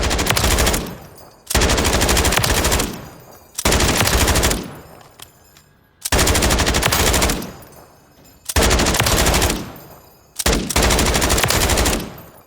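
Mark 46 light machine gun chambered in 5.56x45 NATO firing in Call of Duty: Modern Warfare III, loud sustained automatic bursts repeated six times with short silent gaps between them.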